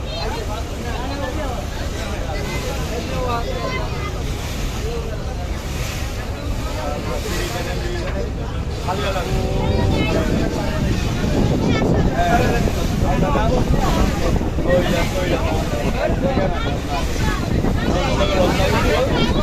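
A passenger launch boat's engine rumbles over water as it approaches, amid gusty wind buffeting, growing louder partway through, with indistinct voices in the background.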